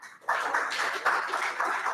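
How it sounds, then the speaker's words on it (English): A crowd applauds at a 1 Million Cups Little Rock morning gathering: dense, steady clapping starts abruptly after a brief quiet moment and holds at an even, fairly loud level to the end. "let's give all of them a quick little clap"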